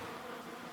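Continuous soft buzzing of newly arrived Saskatraz honey bees around a hive on a homestead, a faint steady hum with no voices.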